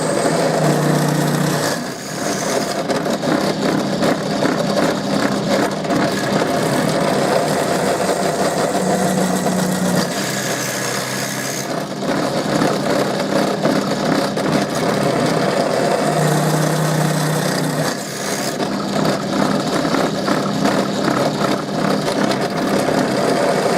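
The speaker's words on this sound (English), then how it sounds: "But this is my old pillar drill." An old pillar drill runs for a long stretch, a steady loud motor hum and whine with a few brief dips and shifts in tone as it drills holes, with no talking.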